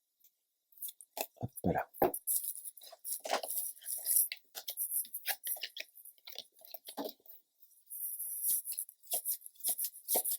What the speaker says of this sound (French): je vais commencer à tirer les cartes